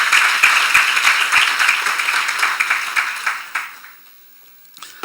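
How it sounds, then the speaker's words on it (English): Audience applause at the 2022 OGP Europe Regional Meeting, a dense burst of clapping from a crowd that thins and fades into near silence, with a last faint clap at the end. "Please give them a round of applause."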